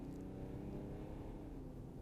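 A BMW 7 Series diesel with roughly 450 lb-ft of torque, pushed to full throttle: a low, fairly quiet engine drone that holds steady and rises slightly as it pulls, with no one speaking.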